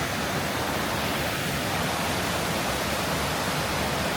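Rushing water near a bridge in Taiwan, a loud, continuous, broadband roar like a stream or small waterfall, steady throughout and heard alone without voices.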